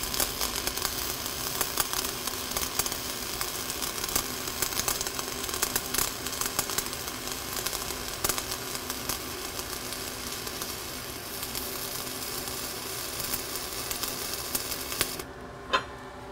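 Arc welding on a half-inch steel plate with a backing strip in the 3G vertical position gives a steady, close crackling hiss that runs without a break for the whole clip.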